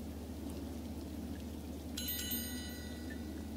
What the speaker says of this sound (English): Camping sucks when it rains.